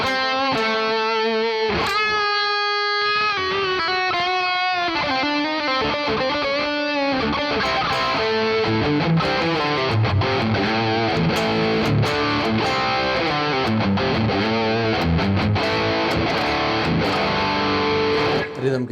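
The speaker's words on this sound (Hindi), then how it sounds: "ओवरड्राइव और डिस्टॉर्शन पैरेलल देयर. उसके बाद डिले." An electric guitar played through a NUX MG-30 multi-effects unit with overdrive, distortion and delay gives loud, driven tones, first sustained held notes and then a busier stretch of quick chords and riffs with delay trails.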